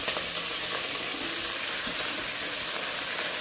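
Brinjal curry ingredients with green chillies deep-frying in a pan, giving a steady, fairly loud broadband sizzle that holds evenly throughout with no talking.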